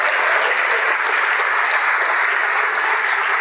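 Dense, continuous applause from a church congregation during a televised service, loud and even throughout with no voices on top.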